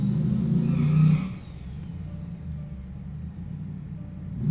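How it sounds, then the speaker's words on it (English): Cars drive and rev outside in a residential neighbourhood, a low steady engine rumble with a louder revving swell at first, then a fainter idling drone, heard from indoors at a distance. "that's just people walking around and making noise with their stupid cars out there"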